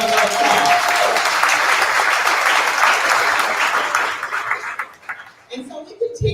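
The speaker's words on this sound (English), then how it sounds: "Let's give him a round of applause" Audience applause from a crowd at a Women of Wisdom gathering, a dense burst of clapping that fills the room and then thins into scattered claps as voices start to come through.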